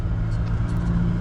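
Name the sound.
car transmission shifting gears while driving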